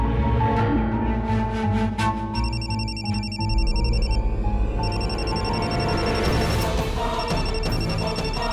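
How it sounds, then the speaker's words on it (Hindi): A mobile phone rings with a loud, melodic ringtone, repeating bright electronic tones in a steady pattern over the full stretch, with no talking. "कस्तूरी, तुम्हारा फोन बज रहा है।"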